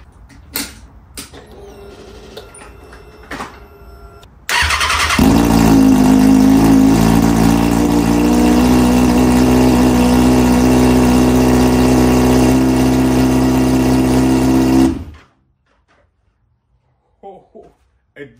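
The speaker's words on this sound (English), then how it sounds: "It does start, it's just the header right now, that's why it's super loud, but it does start." Kawasaki Ninja ZX6R sport bike with only the header fitted and no muffler: a few clicks, then the engine catches and roars loudly at a steady idle for about ten seconds before cutting off abruptly, leaving near silence.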